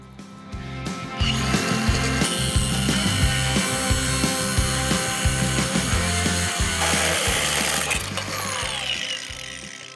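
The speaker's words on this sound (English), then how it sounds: "We're gonna have to cut off this bolt to finish the job." A power tool cuts through a bolt on a John Deere 1910 air cart, starting with a brief mechanical rattle. A sustained loud grinding then runs with a pulsing rhythm and tapers near the end.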